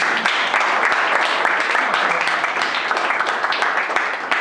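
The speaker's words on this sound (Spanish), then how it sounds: "Un aplauso, chicos, para Adolfo." Audience applause for Adolfo Pérez Esquivel at a 2015 event in Olavarría, a steady, dense wash of clapping from a crowd of young people, sustained and fairly loud throughout, with some voices mixed in.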